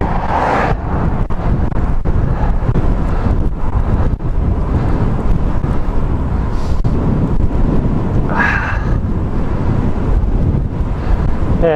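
Heavy wind roars across the microphone while a cyclist rides a road bike at nearly 17 miles per hour in cold weather, a constant loud buffeting rumble with occasional gusting swells.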